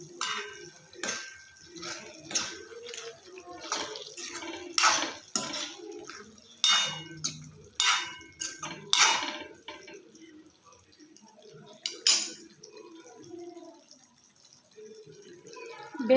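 Brinjal palya being stirred in a pan, North Karnataka style, with scattered scraping and clinking taps of a spoon against metal at irregular intervals and quiet gaps between.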